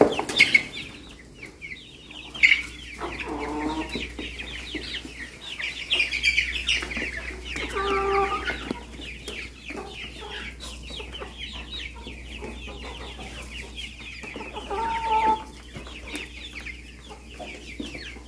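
Several backyard hens cluck and murmur steadily at moderate distance, with a few sharper squawks, brief wing flaps and faint small-bird chirps over a quiet outdoor background.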